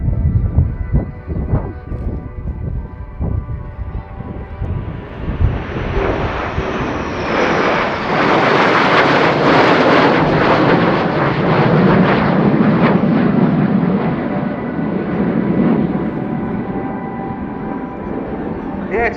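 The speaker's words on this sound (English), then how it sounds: "bringing up the rear as the final element, 3 F-15E Strike Eagles of the US Air Force" Three US Air Force F-15E Strike Eagle jets pass at an airshow display. A loud rising jet roar swells and peaks mid-pass, then slowly fades, with an earlier engine rumble underneath.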